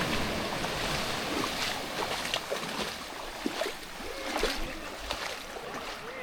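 Ocean waves wash onto a white sand beach in a steady hiss of surf with soft rolling swells and wind, heard from nearby at a moderate, even level.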